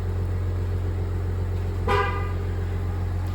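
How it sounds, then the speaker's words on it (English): A single brief car horn honk from a GMC Yukon sounds out over a steady low engine hum, short and fairly close, confirming a tire pressure monitoring system reset. "There we go, it honked."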